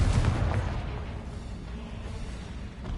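A Confringo blasting-curse explosion from the Hogwarts Legacy game booms loudly at the start, then trails off into a rumbling decay over a few seconds, with no voices.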